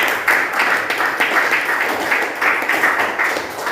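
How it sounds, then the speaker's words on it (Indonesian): Students in a classroom clap together for two classmates, a brisk, steady patter of many hands filling the room at close range with no talk over it. "Oke, tepuk tangan untuk Pandir dan Nancy."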